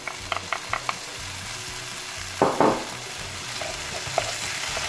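Frozen mixed mushrooms hitting a hot pan for a vegetable rigatoni sauce, giving a steady sizzle with a few clicks of utensils and a louder burst of crackling midway, close and without talk.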